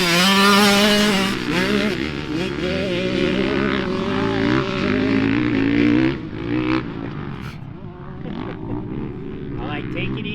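A dirt bike engine warming up at a motocross track, a loud near revving drone with rising and falling pitch throughout, heavy at first and easing slightly later, with people talking over it.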